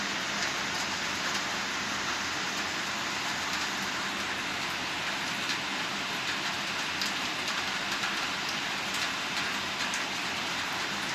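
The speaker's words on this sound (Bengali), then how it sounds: "এই বৃষ্টির মাঝেও" Steady heavy rain pours beside a seaside hotel balcony, a dense, unbroken hiss that stays even and fairly loud throughout, with no voices.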